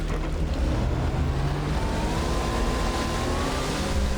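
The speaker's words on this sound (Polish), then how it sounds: "Znaczy, to jest ten skuter wodny." Jet ski in Far Cry 3 running across open water, a steady loud engine drone blended with splashing and rushing water that holds constant throughout, with no talking.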